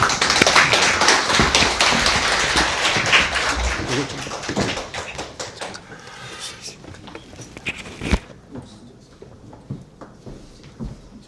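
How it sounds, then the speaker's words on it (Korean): Audience applause at an academic seminar in Korea as a speaker is welcomed, dense clapping that thins out and fades to scattered claps and near-silence. "박수로 모시겠습니다"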